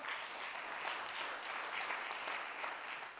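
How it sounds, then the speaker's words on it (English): An audience at a school district's state of the schools address applauds in a continuous, even wash of clapping, heard from a distance and fairly faint. "that deserves a round of applause as well"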